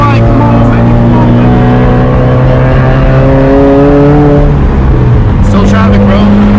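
Loud 400 hp sports car pulling away from a light in traffic, its engine note rising through a steady climbing rev sweep before easing off, heard from inside the cabin with faint voices underneath.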